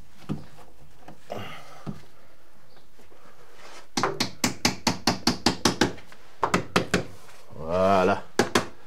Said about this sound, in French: je vais mettre des pontets avec le marteau.